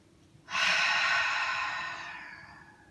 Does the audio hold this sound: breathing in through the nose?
yes